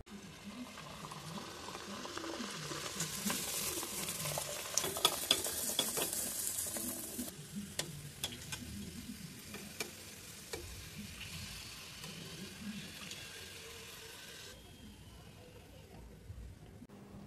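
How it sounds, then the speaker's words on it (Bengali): Puris deep-frying in hot oil give a loud bubbling sizzle that swells and crackles near at hand, with stirring clinks, and the frying settles into a quieter steady hiss toward the end. "চুলায় আমি আগে থেকে তেল গরম করতে দিয়ে দিলাম, এখন ছেড়ে দিব।"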